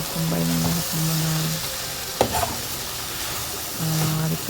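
Sautéed ingredients for sinigang sa miso sizzle in a pan as they are stirred, with bursts of scraping and frying noise in separate rounds, a clatter midway, close and fairly quiet.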